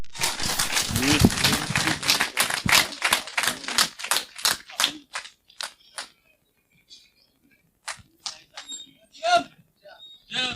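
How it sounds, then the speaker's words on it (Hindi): A small audience in Jaipur claps to welcome a business speaker, starting as a quick burst of close claps, then thinning into scattered, slowing individual claps before a few last isolated ones. "आपकी जोरदार तालियों के बीच वेलकम इन जयपुर सर"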